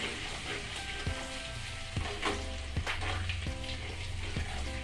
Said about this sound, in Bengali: রসুন আদা দিয়ে এটাকে আমি একটু নেড়ে ঝেড়ে নেব